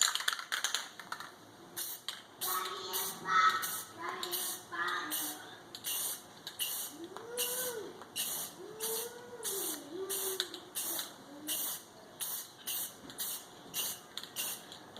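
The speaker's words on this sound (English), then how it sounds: "We're just using basic RustOleum spray paint here" Rust-Oleum spray paint sprayed onto portable generator hardware, a series of short hissing bursts in a quick irregular rhythm, close and moderately loud, with faint voices and creaks between them.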